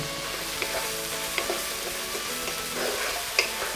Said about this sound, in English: Add in gingelly oil again, fenugreek seeds, followed by finely chopped onion.